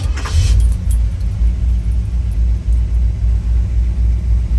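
A 1955 Chrysler Windsor with a 350 engine idling after a cold start, a loud, steady low rumble with a brief jangling rattle at the start.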